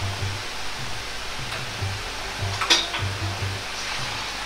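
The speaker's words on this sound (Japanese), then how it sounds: "鍋は前もって温めておき、油大さじ1入れて生姜を軽く炒めます。" Ginger lightly stir-fried in a tablespoon of oil in a preheated pan, the start of tuna and komatsuna fried rice with salted kombu. A steady close sizzle runs throughout, with soft stirring scrapes and one sharp clink midway.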